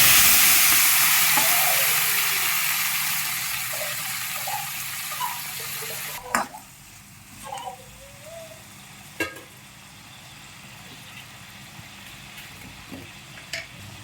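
Mustard seeds and chopped tomato sizzling in a hot pan, a loud hiss at first that fades gradually, with scattered pops and clinks of stirring later on.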